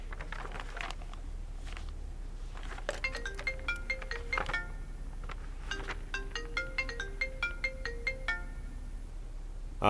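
A phone ringtone plays a bright repeating electronic melody of quick chiming notes over a low steady hum, moderately loud with no talk.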